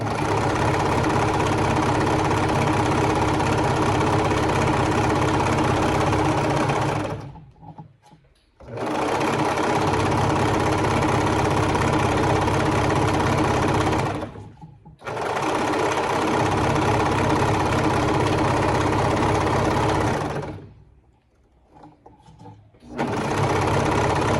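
A coverstitch sewing machine runs fast, stitching fold-over elastic onto a triangle bikini top, a loud, close, steady whirring in three long bursts separated by brief pauses.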